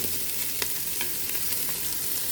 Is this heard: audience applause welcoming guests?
no